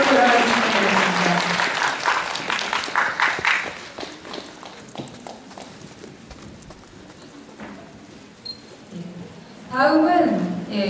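Clapping for award winners at a regional youth counseling volunteers' ceremony: a lively burst of applause at first fades into quieter scattered claps, then swells again briefly near the end, with voices mixed in.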